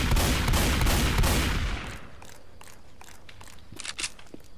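Sustained automatic gunfire in the video game Left 4 Dead 2 with an M16 rifle, a loud dense burst for about two seconds, then quieter clicks and a few faint shots.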